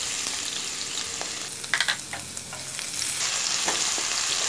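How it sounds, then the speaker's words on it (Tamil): Crushed garlic sautés in oil in a pan for a fish curry, a steady close sizzle with a few quick stirring scrapes and clicks in the middle, and no voices. "நல்லா வதக்குறோம்"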